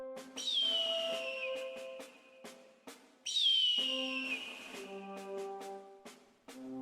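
A person whistles a high, descending screech in imitation of an eagle cry, twice and fairly loud, with short clicks and thumps between calls.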